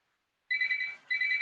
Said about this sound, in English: My phone has just decided to start ringing.